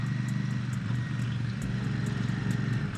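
A Royal Enfield Super Meteor 650 motorcycle out on a ride, its engine holding a steady, close, continuous drone with wind noise and no talk.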